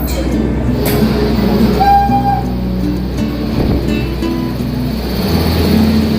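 New Delhi railway station hums with the low rumble of trains, a short horn tone cutting through midway, and a busy, loud wash of background noise.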